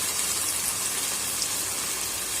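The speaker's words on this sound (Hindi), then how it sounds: "अब हम इसमें पानी ऐड करेंगे।" A glass of water pours into a hot pan of fried arvi (taro root), a steady, even hissing gush held close throughout.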